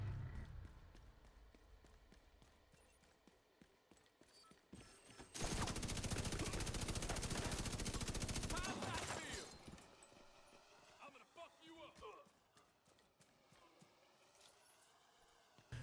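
A light machine gun in the video game The Division 2 fires one sustained automatic burst of about four seconds, dense and rattling, between quieter game sounds and footsteps.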